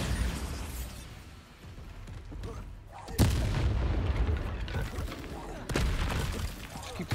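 Bombarda spell blasts in Hogwarts Legacy, booming explosions bursting out at about three and six seconds over a dense rumble of combat noise and other spell impacts.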